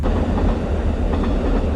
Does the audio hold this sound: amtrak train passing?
yes